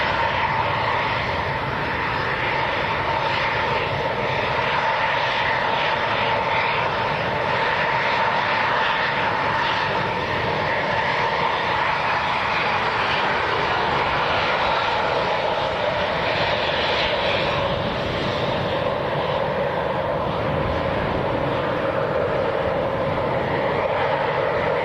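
A KLM airliner bound for Amsterdam runs its engines at Leeds Bradford Airport, giving a steady, loud, broadband roar that continues without letup for the whole stretch, with no talking over it.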